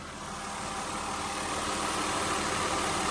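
Ford Escape V6 engine running steadily after a new alternator and power steering pump, a close, even idle hum with a broad mechanical whir and no voices.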